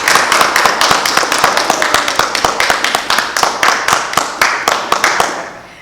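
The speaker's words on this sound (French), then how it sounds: "On nous applaudit Sœur Christy en deuxième fois." A church congregation claps loudly for Sister Christy at a Sunday service, a steady run of sharp, closely spaced handclaps lasting several seconds, with no talk over it.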